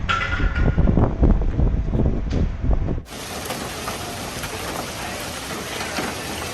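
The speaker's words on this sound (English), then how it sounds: "a powerful hailstorm strikes during severe weather." A powerful hailstorm lashes Stockton, California, in severe weather: after a few seconds of other noise, a dense, steady roar of hail on surfaces starts abruptly and keeps up without a break.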